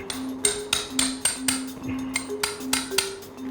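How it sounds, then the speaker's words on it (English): Surgical chisel struck repeatedly against bone during leg surgery on a dog, a close series of sharp metallic taps in an uneven rhythm, roughly eight blows over a faint steady electronic hum, with no talking. "So now we will chisel that."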